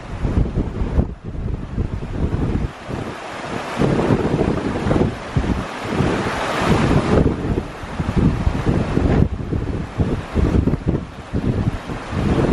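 Strong wind at sea buffeting a small inflatable boat, loud rumbling gusts blasting the microphone with waves and water beneath, continuous and rough throughout, with no voices.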